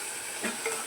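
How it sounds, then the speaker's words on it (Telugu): Tempering for a lentil and tomato curry sizzles in a pan, with a couple of quick stirring scrapes over a steady hiss. "తాలింపు వేసుకోవాలి."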